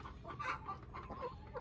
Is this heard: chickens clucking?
yes